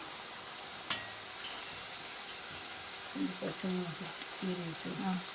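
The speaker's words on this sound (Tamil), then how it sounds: "இப்போ இந்த வெங்காயத்து கூட நம்ம வந்து கருவேப்பிலை போட்டுக்கலாம்" Curry leaves hitting frying onions in a pan for a chicken liver pepper fry give a faint steady sizzle with a sharp crackle early on, while a person talks over the later part.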